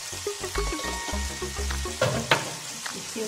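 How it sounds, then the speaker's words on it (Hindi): White cumin seeds hit hot oil in a karahi and sizzle loudly, with a crackling fry, spoon clinks and stirring scrapes over a few seconds, close up and without talk. "इसके साथ हम डालेंगे इसमें वाइट जीरा"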